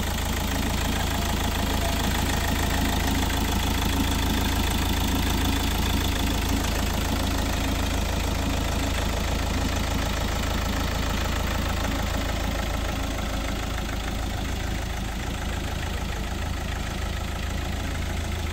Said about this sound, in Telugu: ఇంజన్ బీటింగ్ కూడా ఒక పెట్రోల్ కార్ ఎలా ఏ విధంగా అయితే ఉండిద్దో ఆ విధంగా ఉందండి ఇంజన్ బీటింగ్